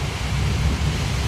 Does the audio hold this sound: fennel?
no